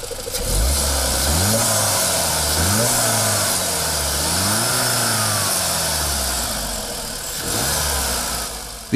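A Skoda Octavia Combi RS engine, the same engine as the Golf GTI, revs up through several rising gear pulls, loud and close, the growl climbing and dropping in repeated waves.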